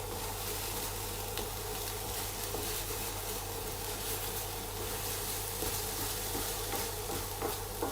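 Cauliflower korma being stirred in a pot: a steady, dense sizzling and scraping bubble that runs continuously at an even level without pause or speech.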